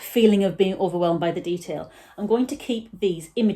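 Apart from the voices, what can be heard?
No everyday noises stand out.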